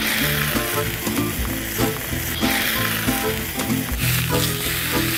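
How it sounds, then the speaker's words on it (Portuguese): Filet mignon medallions sear in a hot frying pan, giving a loud, steady, close sizzle with crackling spits and occasional stirring scrapes throughout. "A gente quer selar o filé para todos os sucos da carne fiquem dentro da carne"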